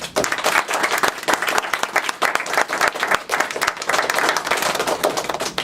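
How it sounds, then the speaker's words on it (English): Audience applause at a hip hop activism conference, a dense, steady wash of many hands clapping close and loud for several seconds, with no speech over it. "Give a round of applause."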